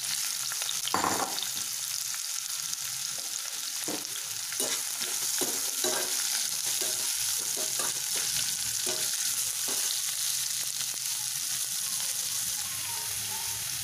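Chopped onions sauté in a hot pan for a chutney, giving a steady, close sizzle broken by repeated scraping stirs of a spoon against the pan.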